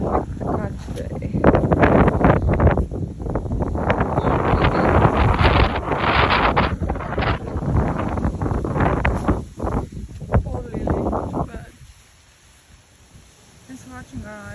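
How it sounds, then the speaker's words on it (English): Gusty wind buffets the microphone outdoors in a garden during windy weather, a loud rumbling roar with bursts of rustling that drops away abruptly near the end, with speech now and then beneath it. "It's windy."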